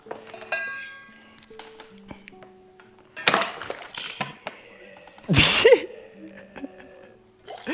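Glasses clink together in a toast, a bright ringing tap near the start with a few more light clinks and rustles after it; someone sneezes or exclaims loudly partway through, and people move and talk quietly around it.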